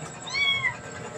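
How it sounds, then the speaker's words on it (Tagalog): A single cat lets out one clear, drawn-out meow at close range, rising and falling over about a second against quiet household background. "mga ampon, mga pusa guys"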